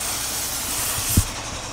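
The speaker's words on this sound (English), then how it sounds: "Spray this right here." A cooking spray can hisses onto a pan in a home kitchen, a steady close spray lasting under two seconds with a small knock near the end.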